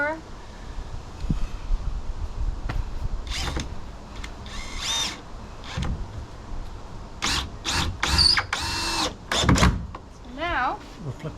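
A power drill driving screws into a wooden yard sign planter, several short whirring bursts rising in pitch, close by, separated by pauses, handling clatter and a person talking.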